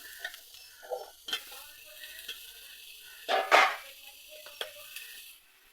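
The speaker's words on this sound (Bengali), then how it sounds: "এবার এতে কেটে রাখা আলুগুলো দিয়ে দেবো।" Cut potatoes dropped into hot mustard oil, with a loud sizzling burst partway through and lighter scraping and stirring around it; no one speaks.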